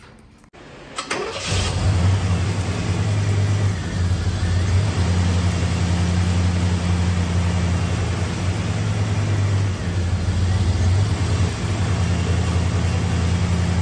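A 1989 Trans Am 5.7 TPI V8 engine cranks and catches, then settles into a loud, steady idle with a low rumbling hum that continues throughout.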